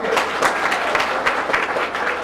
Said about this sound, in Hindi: एक शानदार प्रस्तुति के बाद शानदार जोरदार तालियां बजा दें एक बार